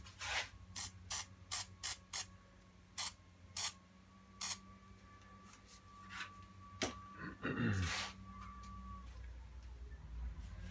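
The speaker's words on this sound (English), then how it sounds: "give it a little spray" A hand spray bottle mists water onto a watercolour painting of a blue door, a string of short, sharp hissing pumps close up, followed by softer handling noises.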